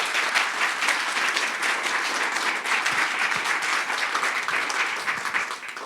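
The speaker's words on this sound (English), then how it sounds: "a round of applause for all of our nominees" A large audience at the 2025 Pastega Awards Ceremony in the Willamette Valley gives the award nominees a full, sustained round of applause. The dense clapping stays loud and even throughout.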